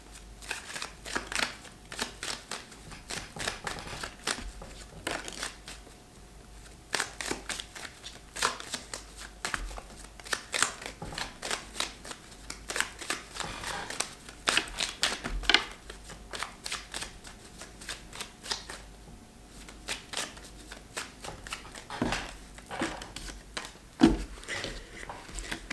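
Tarot cards shuffled by hand in a long run of quick riffling bursts and soft slaps, close and fairly steady, with no one talking.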